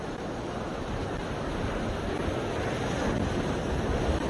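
Sea waves crash at a rocky fishing spot in Batanes, making a continuous broad roar of surf mixed with wind buffeting, steady and fairly loud throughout with no voices.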